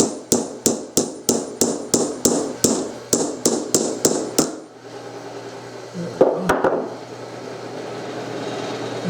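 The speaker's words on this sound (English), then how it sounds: "I'm just going to use the hammer because it's close" A hammer taps sharply about a dozen times in a quick, even rhythm, then stops; two more hits follow after a pause against a low hum.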